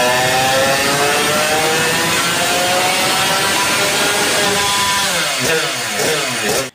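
A two-stroke engine revs hard and continuously on a dyno, its buzzing harmonic whine climbing and holding at high pitch, loud and close throughout.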